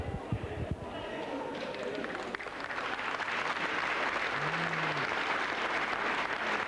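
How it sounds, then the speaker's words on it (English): Crowd applause at a student rugby league match between Scotland and England rises into a steady, moderately loud patter of clapping, with a commentator talking over the start. "Generous round of applause"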